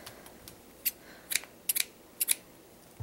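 Several crisp snips of dull scissors cutting yarn, quiet and close, arriving singly and in quick pairs against a hushed background.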